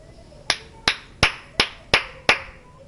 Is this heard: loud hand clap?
yes